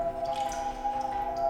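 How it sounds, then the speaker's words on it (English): Water droplet sounds from a song drip over a sustained tonal musical drone, close and fairly soft. "Those water droplets just ruined."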